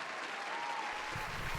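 A crowd applauds steadily at a distance, a soft continuous wash of clapping with no break, heard on its own.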